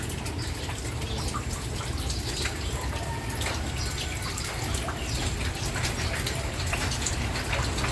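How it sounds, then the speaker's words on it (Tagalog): Steady rain patters and drips on surfaces nearby, a continuous wet hiss with scattered droplet taps throughout. "Yan na naman yung ulan."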